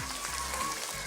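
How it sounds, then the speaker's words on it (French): An audience claps for a performer at a live French comedy show, a dense and steady wash of applause that fills the whole short moment without any speech over it. "Mesdames, messieurs, on peut applaudir"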